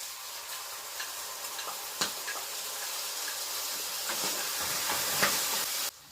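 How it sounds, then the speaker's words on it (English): Garlic and peri-peri sauce fry in a pan with golden-browned chicken livers, producing a steady hissing sizzle with scattered stirring clicks and pops, close and continuous until it stops abruptly near the end. "I'm gonna allow it to fry for a minute"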